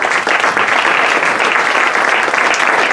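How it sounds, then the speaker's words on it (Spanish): Loud, dense applause from an audience at a social entrepreneurship gathering, steady and continuous with no pause. "pido un aplauso muy fuerte para todos ustedes"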